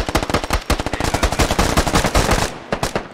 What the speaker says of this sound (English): Firing from through the window, I think.